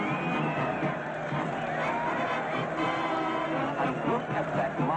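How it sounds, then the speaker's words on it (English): A large mob greets long-lost castaways arriving in Hawaii, a dense continuous roar of cheering and shouting voices with scattered whoops, loud and unbroken throughout. "And look at that mob waving and cheering."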